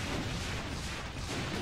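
Rocket explosions from the game Brutal Doom: dense, loud rumbling blasts running continuously across the moment, with no talk over them.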